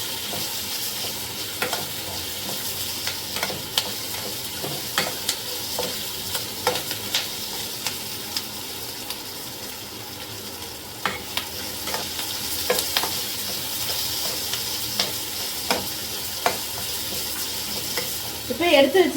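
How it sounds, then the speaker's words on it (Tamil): Onions sauté in a pan for chutney, a steady soft sizzle with repeated scraping stir strokes throughout, no voices. "வெங்காயம் வந்து நல்லா வதக்கிக்கணும்."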